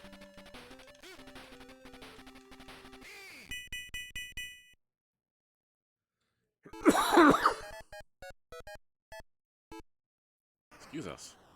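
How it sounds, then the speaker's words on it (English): People cough and clear their throats in a loud burst of rough, noisy hacks, followed by a few short sharp coughs and a final throat clear. Electronic tones from a 1986 Sega Pro Wrestling game play before and between them. "Look at all the coughing."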